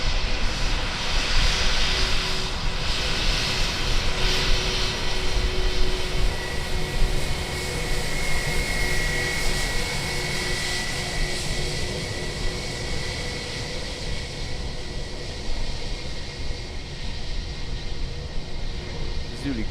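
An Airbus A320 taxis on the near taxiway at Auckland Airport, giving a steady, fairly loud jet engine whine and rumble with a faint high tone that holds throughout.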